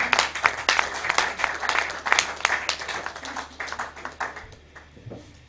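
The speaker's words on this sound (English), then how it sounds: "A resounding applause for her." A workshop audience applauds with dense, steady clapping that gradually thins out and fades toward the end.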